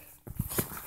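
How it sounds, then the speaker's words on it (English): A small new white dog gives a brief, faint whimper or yelp up close, a couple of short squeaky sounds lasting under a second. "This is our new white dog, Flapjack."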